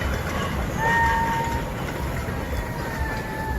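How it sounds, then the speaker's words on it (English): Passing train's steel wheels on steel rails give a steady loud rumble and clickety-clack, with a faint horn-like tone drifting above, continuous through the clip with no talk. "Clickety clack. Steel wheels on steel rails."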